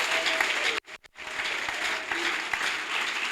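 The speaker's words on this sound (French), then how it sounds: "Acclamons très très fort Jésus-Christ." A church congregation applauding loudly during a worship service: dense, steady clapping fills the space, breaks off for a moment, then resumes just as strong.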